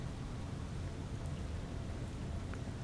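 Steady, dense rain hiss in the video game Space Engineers, a constant wash with a low rumbling undertone and no distinct drops or talk, heard in darkness.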